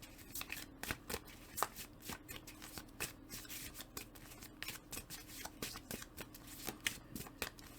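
Tarot cards riffled and shuffled by hand in a steady run of quick, crisp flicks and slaps, close and moderately quiet, with no talking.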